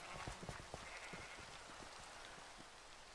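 Minecraft sheep bleating on a farm, several short bleats in quick succession early on, then thinning out over a soft steady hiss, fairly faint with no talking.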